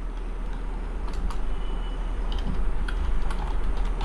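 Fingers tap a computer keyboard in quick, irregular bursts of clicks, close and clear against a low steady hum, with no one speaking.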